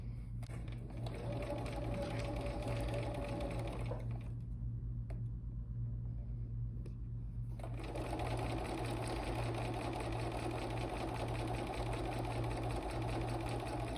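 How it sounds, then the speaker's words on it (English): Sewing machine stitching quilt basket blocks, a steady close mechanical whirr that runs for several seconds, pauses briefly, then resumes for a second run. "let's get this under the needle"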